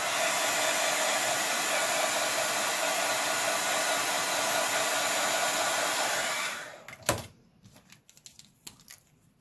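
A hair dryer blows steadily and loudly, close up, drying paint on a rock fairy house, then switches off and leaves a few light knocks and handling noises.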